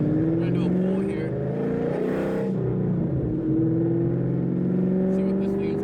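A 2010 Ford Mustang GT with a V8 accelerates hard, its engine note climbing through a gear, dropping briefly at a shift, then climbing again, loud inside the cabin, with someone talking over it.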